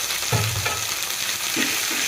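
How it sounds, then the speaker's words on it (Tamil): Steady frying sizzle from chopped tomatoes sautéing in a pan, with a couple of low scraping stirs and a continuous hiss throughout. "தக்காளி பழம் மூணு பழம் நறுக்கி வச்சுருக்கோம் அதை போட்டுக்கலாம் அதை நல்லா வதங்கட்டும்"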